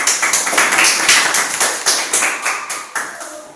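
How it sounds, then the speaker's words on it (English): A small group of students claps their hands in a classroom, a close, brisk burst of uneven claps lasting a few seconds before tapering off. "Can you guys give him a hand clap for him,"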